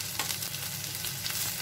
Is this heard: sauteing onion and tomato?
yes